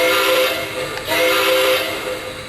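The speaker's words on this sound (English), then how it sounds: "let's try the whistle" Steam whistle sound effect from a Lionel LionChief Plus Nickel Plate Road 767 model steam locomotive with Bluetooth, a sustained loud toot with a brief dip midway, heard alone and close.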